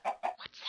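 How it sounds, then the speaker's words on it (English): Short goat bleats from the video game Minecraft with the Mo' Creatures mod: two quick nasal calls, then thinner higher cries, close and clear with no talk. "That's a goat."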